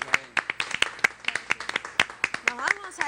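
Scattered claps from a small studio audience on a Spanish-language talk show, uneven and brief, with a voice speaking over them.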